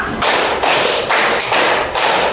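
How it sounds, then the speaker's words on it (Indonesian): Schoolchildren clap together in a counted concentration exercise, five loud, close group claps spaced in a steady rhythm with no talk. "Yuk kita akan konsentrasi dengan bertepuk tangan ya."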